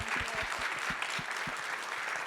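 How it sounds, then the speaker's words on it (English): Theater audience applauding at the close of an evening talk, a dense wash of many hands clapping steadily throughout, moderately loud and fairly close, with no voices standing out. "So with that, let's give them a round of applause."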